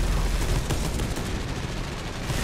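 An assault cannon in Space Hulk: Deathwing fires continuously in a loud, dense, unbroken roar of rapid shots, close and sustained throughout.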